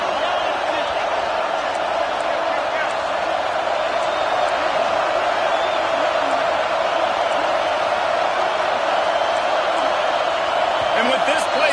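Stadium crowd in a college football video game roaring continuously and loudly at a steady, unbroken level for the whole stretch, dense and enveloping with faint scattered thumps.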